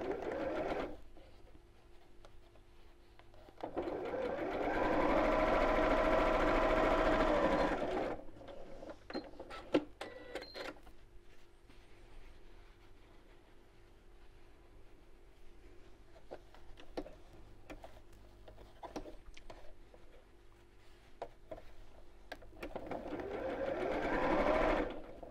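Domestic sewing machine stitching the seam of a drawstring Christmas stocking, running in two loud steady bursts near the start and again at the end, with quieter handling of fabric between them.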